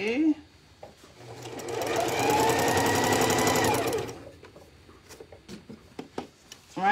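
Sewing machine stitching in a steady, even run for a couple of seconds at a live sew-along, with someone speaking quietly before and after the burst.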